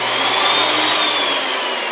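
Spindle of a DIY Mach3-controlled CNC router switched on; a loud, steady high whine with an airy rush holds close and unbroken, with no talk.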